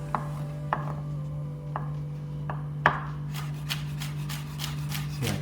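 A kitchen knife cuts vegetables into julienne strips on a cutting board for chicken and pancake soup, a few soft, spaced chops over a steady low hum, then quicker light strokes.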